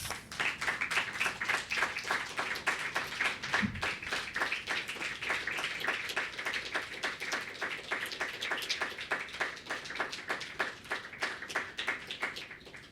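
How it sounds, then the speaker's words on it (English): Sustained applause from a seated audience at a poetry reading, many hands clapping steadily and evenly at moderate distance for the full stretch, with no one talking over it. "thank you, everybody, for clapping again"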